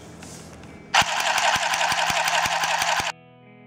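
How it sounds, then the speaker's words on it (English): A small cordless handheld sewing machine whirs steadily for about two seconds with a fast rhythmic clatter, starting and stopping abruptly, close up and fairly loud. "The handheld sewing machine, which is portable and cordless."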